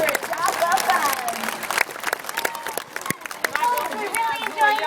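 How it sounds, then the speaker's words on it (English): Audience applause rises at a dolphin show, loud and close with scattered claps and cheering mixed through, while voices chatter and talk continues over it. "So if everyone can give Avalon one more great big round of applause for his job well done"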